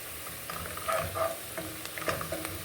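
Onions frying in a pan until golden brown for a beef stew, a quiet steady sizzle with a few soft stirring scrapes and clicks across a short stretch.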